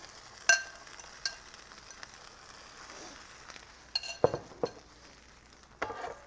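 An egg, mushroom, ham and onion scramble fries on a griddle with a soft, steady sizzle, broken by several sharp clinks and scrapes of a metal utensil against the cooking surface.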